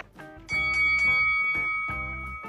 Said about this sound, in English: The bell rings for round one.